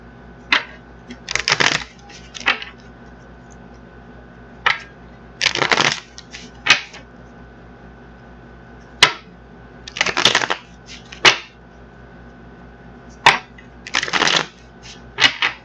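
Tarot cards being shuffled by hand in a quiet room, coming as repeated short riffling bursts separated by pauses, close and crisp, with no talking.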